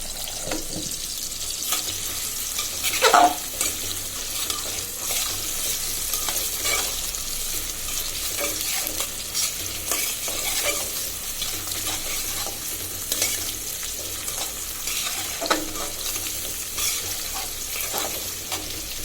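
A Surma fish curry with tomato simmers and sizzles steadily in a pan for a long stretch. Occasional stirring scrapes and faint watery bubbling come through, with no talking.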